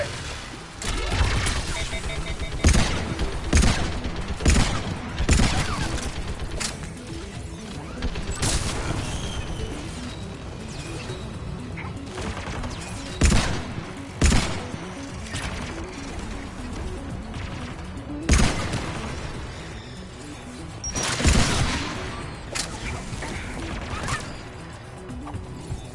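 Heavy mounted turret gunfire in Mass Effect 3, loud bursts and sharp booming impacts recurring irregularly over a dense, continuous battle din.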